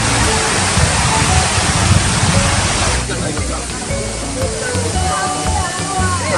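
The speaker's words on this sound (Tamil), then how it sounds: "வெள்ள நீர் வீழ்ச்சி, பாம்பார் அருவி உள்ளிட்ட அனைத்து அருவிகளிலும் சீராக நீர் கொட்டி வருகிறது." Water cascades steadily down mountain waterfalls in Kodaikanal after moderate rain, a broad continuous rushing roar that drops slightly in level midway and carries on unbroken.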